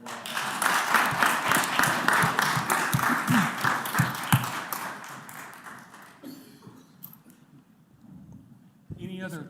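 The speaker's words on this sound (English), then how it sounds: "give them another round of applause" A crowd claps and applauds for several seconds at a city council meeting, the clapping fading out, then a voice speaks briefly at the end.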